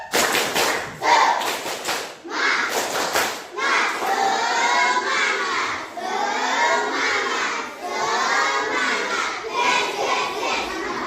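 A classroom group performs a rhythmic clapping routine, bursts of sharp claps in patterned counts mixed with children's shouting voices, loud and close throughout.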